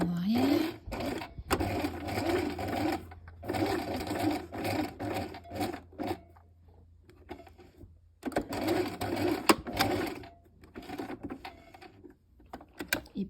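A sewing machine stitches a wrap skirt in bursts of rapid mechanical whirring, stopping and restarting several times, with someone speaking between and over the runs.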